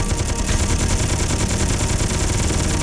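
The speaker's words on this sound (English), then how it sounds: "Alright, Gatling gun. Shoot on." Rapid, continuous Gatling gun fire from the video game Space Engineers, a loud unbroken rattling burst of shots with no pauses, heard alone without any talking.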